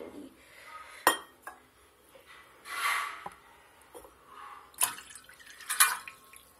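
Water is poured into a metal vessel at home for a Ganga deepdaan offering. There are short splashes and sharp clinks of metal, quiet and close, separated by pauses.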